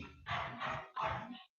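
A dog barks twice somewhere in a house, two short, muffled bursts in quick succession, fairly faint and with no one speaking.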